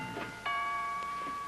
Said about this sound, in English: would you mind answering the doorbell, please?